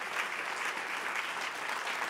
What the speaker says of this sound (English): a special round of applause for all these guys here who made all the noise